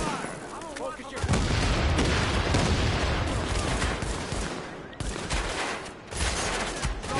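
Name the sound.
gunfire in The Division video game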